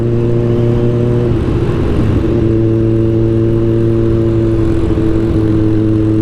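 A Kawasaki Ninja 1000 with a cheap aftermarket exhaust drones loud and steady while riding, its engine tone holding even with slight rises and dips in pitch throughout, no talk.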